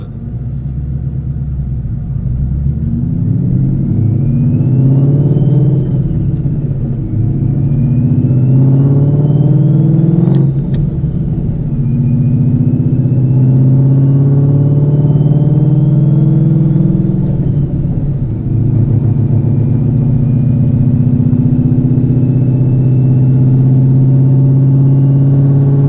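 A Whipple-supercharged 2016 Mustang GT V8 with a T56 Magnum XL manual swap drones loudly from inside the cabin, its exhaust rising in pitch through several gear changes with a faint whine riding above.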